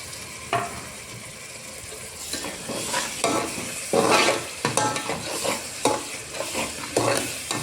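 Wet masala paste for Kolhapuri misal sautéed in a pan, with irregular scraping stir strokes over a soft sizzle, close and fairly loud, no talking.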